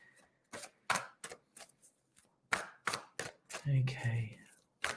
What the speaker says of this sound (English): Now, Shanae, I'm just giving the cards a good shuffle.